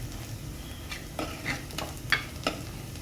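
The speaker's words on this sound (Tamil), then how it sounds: "இதெல்லாம் சேர்த்து நல்லா வதக்கணுங்க." Spice paste for fish curry stirred and sautéed in a pan, with a soft steady sizzle and a few scraping stirs standing out near the end, close and fairly quiet with no talk.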